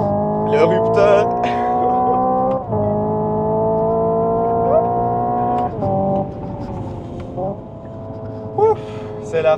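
A Hyundai Ioniq 5 N electric car driven hard on a race circuit gives a loud, close, engine-like droning tone that steps in pitch like gear shifts, with brief tire squeals and a voice speaking over it.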